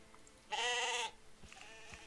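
A single loud bleat from a sheep in the strategy game Empires Apart, short and nasal, rises out of a quiet background, followed by a couple of faint thuds.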